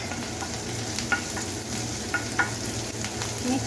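Grated garlic and ginger, about four cloves and an inch of root, fry in a pan with a steady close sizzle and a few light scrapes and taps as they are stirred.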